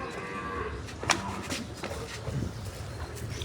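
Cows and a calf low repeatedly at a cattle shelter (panjrapol gaushala) while the animals are given medicine, moos rising over steady farmyard noise, close and fairly loud.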